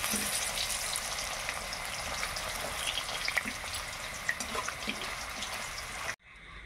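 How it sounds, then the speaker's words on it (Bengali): Bright steady sizzling of potatoes frying in a pan, with small pops, then it cuts off abruptly near the end. "এবার ভেজে নেবো, হালকা লাল করে ভেজে নেবো।"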